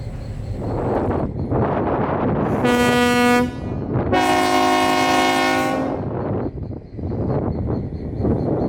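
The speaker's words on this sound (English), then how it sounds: "so here the train will stop" A rumbling train rolls past close by at the Florida Railroad Museum, its horn sounding twice, a short blast then a longer one, over continuous wheel noise.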